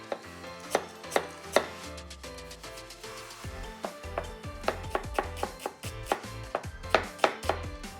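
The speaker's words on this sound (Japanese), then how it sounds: "まず玉ねぎ切ります。 まずみじん切りですね。" An onion being finely minced with a knife for large meatballs: quick, crisp chopping strikes in irregular bursts on a cutting board, with soft background music and no talking.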